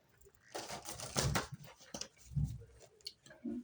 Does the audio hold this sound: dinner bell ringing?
no